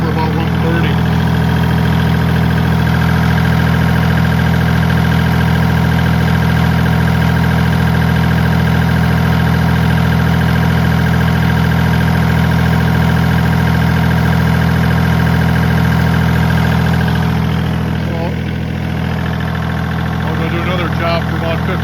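A 1985 Kubota L2550 tractor engine with a newly replaced thermostat idles steadily with no load on a mild day, producing a loud, even, low drone that runs throughout with little variation and no speech.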